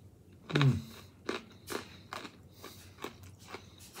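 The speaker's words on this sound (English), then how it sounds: "So crunchy. The pretzels are perfect." Snyder's cheddar cheese pretzel pieces being bitten and chewed close to the mic, one loud crunching bite followed by a run of sharp, evenly spaced crunches as they are chewed.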